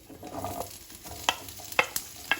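Medium-sized onions frying in a pan for Hyderabadi paneer, a soft close sizzle punctuated by several sharp clinks and scrapes of a spoon stirring against the pan.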